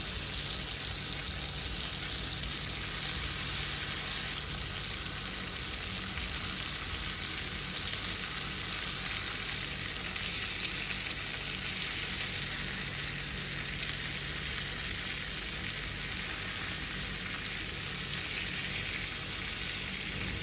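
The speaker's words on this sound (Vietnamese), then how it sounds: "mình sẽ cho cái phần cá đã ướp gia vị vào chiên sơ để cho cá săn lại." Marinated fish frying in a pan for braised climbing perch, a steady close sizzle and crackle of hot oil running continuously for about twenty seconds with no talk.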